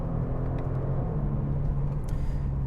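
A 2022 Genesis G70 3.3T sedan's engine hums in a steady, low rumble from inside the cabin, with no artificially enhanced sound, droning evenly throughout and without any talk.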